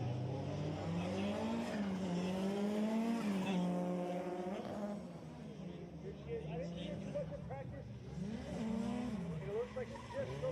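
Drift car tyres squealing and engine revving during a Formula Drift qualifying run, a long wavering squeal with rising and falling pitch over most of ten seconds, under steady commentary.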